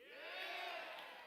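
Theater crowd at the AMD E3 2019 keynote roars with sustained cheering and whoops, a dense, loud wash of many voices that swells and holds steady throughout.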